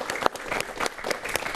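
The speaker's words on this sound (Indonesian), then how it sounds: "Kita kasih tepuk tangan." A television talk-show studio audience applauds a guest arriving on set, dense continuous clapping from many hands at moderate loudness, with a few sharper claps standing out.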